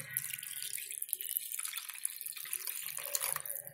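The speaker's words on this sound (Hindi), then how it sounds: "ये मैं इसमें एक कप पानी डालूंगी" A cup of water poured into a pan of pav bhaji on the stove, a steady bright splashing rush of liquid lasting a few seconds, close and continuous with no talk over it.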